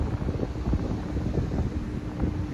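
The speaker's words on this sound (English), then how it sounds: "Pardon the wind, guys." Steady, loud wind buffeting a microphone on the back deck of a cruise ship in Juneau, Alaska, a continuous low rumble with gusty swells throughout and no voices.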